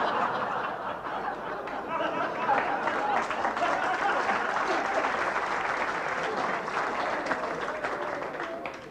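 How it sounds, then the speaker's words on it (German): Audience applause mixed with chuckles and snickers at a 1987 German cabaret performance, steady dense clapping and laughter sustained through the whole stretch. "du brauchst nicht zu klatschen"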